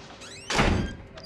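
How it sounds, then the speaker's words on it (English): A heavy door slams shut in the horror game Outlast, preceded by a brief creaking squeal, then a single loud, booming thunk that rings out briefly. "slam the doors, bud. That's all you're good at."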